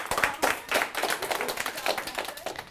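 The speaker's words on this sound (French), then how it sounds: "On applaudit les notes," An audience at an Alsatian-language slam poetry tournament claps for the judges' scores, a short burst of quick, scattered applause at moderate distance.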